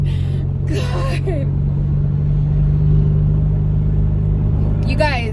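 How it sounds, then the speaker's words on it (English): An Alfa Romeo Giulia roars through a burnout with a loud, sustained engine drone and tyre rumble, while people's voices and whoops break in at the start and end. "that is literally my first time ever doing a burnout"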